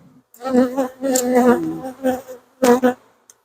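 A honeybee swarm buzzes close and loud as it moves into a hive, coming in uneven bursts of droning hum separated by short near-silent gaps.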